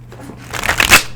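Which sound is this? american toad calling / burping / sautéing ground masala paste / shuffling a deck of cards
shuffling a deck of cards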